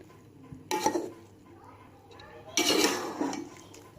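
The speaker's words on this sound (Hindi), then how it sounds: "चावल डालने के बाद आप थोड़ा सा इसको हिला दें" A spoon stirs rice into an egg mixture in a pan for Chinese-style egg fried rice, making two clear bouts of clattering, scraping metal strokes separated by a quiet pause.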